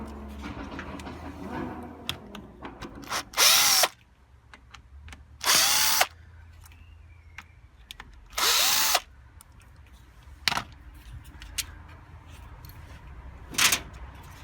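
A power screwdriver spins screws out of the back panel of a Hoover HNL2126 washing machine, with three short loud whirring bursts and a brief fourth separated by quieter handling clicks.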